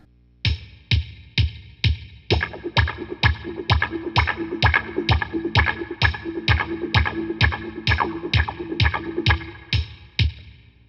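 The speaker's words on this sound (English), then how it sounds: "So the strumming pattern is 16th notes, but the wah pattern with my foot is still just quarter notes." Muted guitar strums in steady sixteenth notes, with a wah pedal sweeping the tone in a slower pulse; a ticking beat runs throughout.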